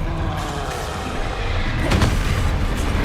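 Spell explosions from Bombarda and Confringo in the Hogwarts Legacy video game, a dense rumbling blast with one stronger boom near the middle over a steady loud low roar.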